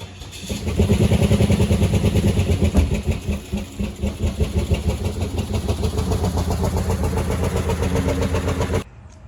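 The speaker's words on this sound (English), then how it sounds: "As you heard that clip, Northstar engine blew up" A loud, blown Cadillac Northstar V8 engine runs roughly and unevenly, with a throbbing, misfiring rumble throughout before cutting off abruptly at the end.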